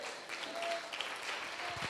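A church congregation applauds during a Spanish-language sermon, a steady wash of clapping that holds at moderate level throughout without a clear break.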